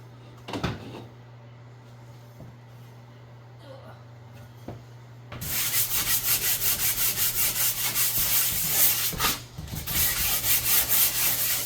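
A wall's drywall patch is hand sanded. After a few knocks and a little speech, fast rhythmic rasping strokes start and keep up loud and close with one brief pause.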